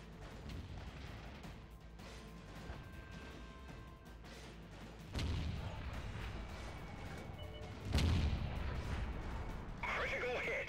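Artillery fire from an FV304 self-propelled gun in a tank video game: a few heavy booming shots spaced seconds apart, loud against a steady engine rumble, with voice callouts from the game.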